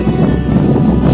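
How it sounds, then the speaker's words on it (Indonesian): Strong wind blows in off the sea at a beach during a storm, a loud, low buffeting roar rumbling continuously against the microphone. "angin yang kencang ya dari laut"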